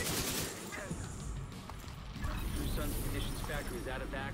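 Gunfire in the video game The Division 2, a dense stream of rapid mechanical shots and clattering weapon noise under a voice talking throughout.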